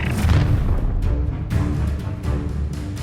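A casting burst of the Incendio fire spell in Hogwarts Legacy, with booming whooshes and crackling blasts close up, several impacts in quick succession over a dense low rumble.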